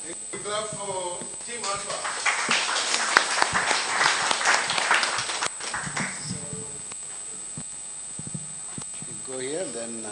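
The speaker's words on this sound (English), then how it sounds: "Clap for Team Alpha" Applause for a hackathon team, a burst of clapping from an audience in a room, rising for several seconds then thinning out, with people talking before and after.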